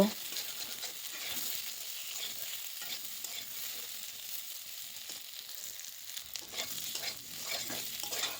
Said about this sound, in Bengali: এবার ওই তেলের মধ্যে সিদ্ধ করে রাখা আলুগুলোও একটু নেড়ে চেড়ে ভেজে নেব।